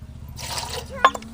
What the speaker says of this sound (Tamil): புது தண்ணியும் மோந்து ஊற்றிக்கலாம்.